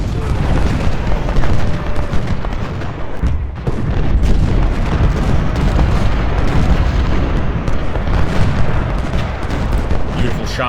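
Artillery fire in the Ultimate General: Civil War video game, a dense, continuous barrage of booming cannon shots rumbling loudly with no pauses throughout.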